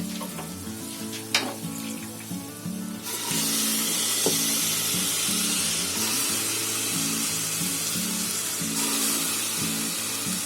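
Bitter val beans tipped into a hot pressure cooker with onion and coconut, bursting into a loud, steady hissing sizzle after a few clattering knocks, close and continuous.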